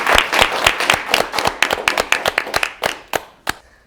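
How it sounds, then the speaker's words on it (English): Applause for a dancer at a virtual gala show, a small group of hands clapping in distinct sharp claps, close and irregular, slowing and thinning to a few last claps. "please join me to give Jay a warm applause"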